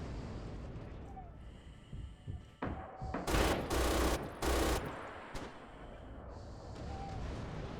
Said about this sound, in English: Mounted MG42.